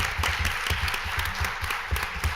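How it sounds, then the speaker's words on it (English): An audience at a book launch in Delano applauds panel members with steady, moderately loud clapping that carries on without talk. "please give a round of applause for the panel members."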